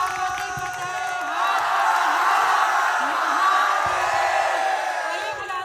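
Audience at a Hindi kavi sammelan poetry gathering breaks into sustained applause with cheers and whoops, a dense crowd roar that swells and holds steady throughout.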